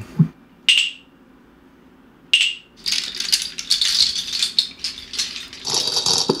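A hand rattle gives two quick isolated shakes, then a longer burst of busy rattling and jingling, close and fairly loud.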